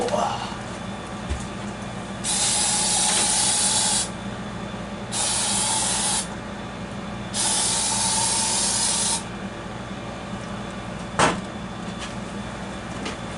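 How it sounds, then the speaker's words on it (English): Raid insecticide from an aerosol can is sprayed at an insect indoors in three loud, close hissing bursts of a few seconds each, followed by a single sharp knock. "I just sprayed Raid on it, or near it."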